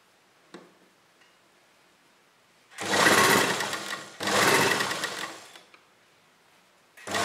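Sewing machine stitching across fabric pleats, with two sustained bursts of running a few seconds each and a short start at the end, close and fairly loud, with no talk.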